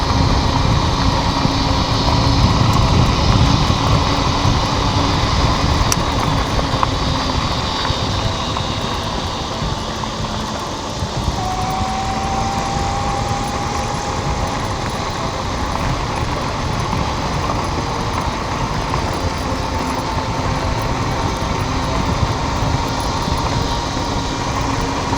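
An Addmotor M360 semi-recumbent e-bike ridden at full throttle in the countryside, a steady motor whine with rushing wind noise throughout, loud and continuous.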